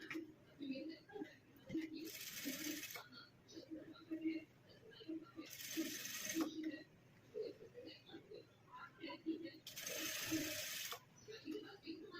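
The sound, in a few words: sewing machine stitching a blouse sleeve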